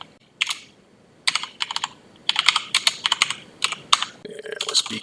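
Code being typed on a computer keyboard, bursts of crisp, close keystrokes in quick runs separated by short pauses, with a denser clatter toward the end.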